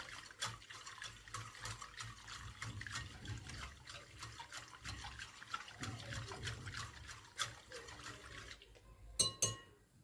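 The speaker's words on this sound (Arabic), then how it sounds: "ابدا اصبه في كوبايات او الطواجن الفخار اللي تحبيه" Homemade yogurt milk is poured into cups or clay pots, a soft, faint trickle of liquid with a few light clinks of the containers toward the end.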